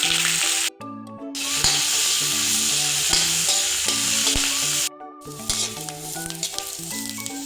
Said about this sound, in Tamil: இப்போ கொஞ்சம் நல்லெண்ணெய் ஊற்றிக்கலாம். தெரிக்கும் பிரண்டையை போட்டு நல்லா வதக்கிடும்.